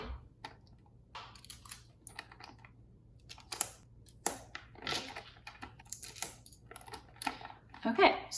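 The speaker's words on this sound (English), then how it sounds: "and you're just gonna tape it down." Tape is pulled and pressed down to fix a sheet of wax paper over a hole cut in a shoebox, giving close, irregular crackling and tapping bursts.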